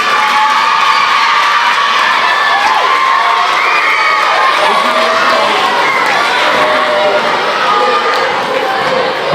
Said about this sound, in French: Bravo à vous, je peux les applaudir.